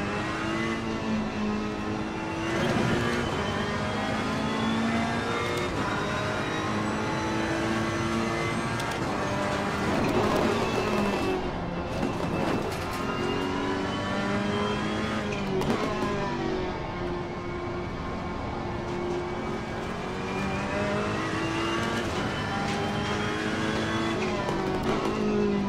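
Several race cars howl through an online Assetto Corsa Competizione race, engines revving and shifting continuously at close range, with brief tire squeals and skids cutting through the steady roar.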